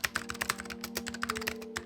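Rapid, crisp typing on a custom Apple-style mechanical keyboard fills the moment with a dense, continuous patter of close key clacks.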